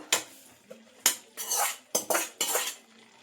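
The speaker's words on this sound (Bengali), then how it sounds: "ভেজে রাখা ফুলকপিটা আমি এর মধ্যে দিয়ে দিলাম" Fried cauliflower being tipped into a pan, several sharp metal clinks of a spoon against the pan followed by short scraping pushes, close and clear, with no talking.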